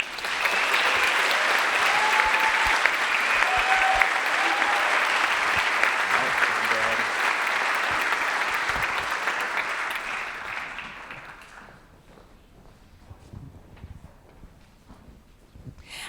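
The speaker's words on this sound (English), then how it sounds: "can we please give a round of applause for the individuals on stage?" An audience applauds the individuals from Homeboy Industries on stage at a Stillpoint Center gathering welcoming Fr. Gregory Boyle; loud, steady clapping fills the room for about eleven seconds, then fades into quieter murmurs and room noise.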